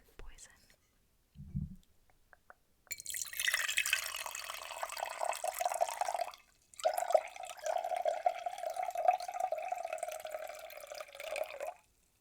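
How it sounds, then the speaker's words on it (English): Locally sourced river water poured for brewing a potion, a steady close trickling stream that breaks briefly and resumes, soft and intimate, after a faint earlier sound and a short quiet pause. "So here is our locally sourced river water"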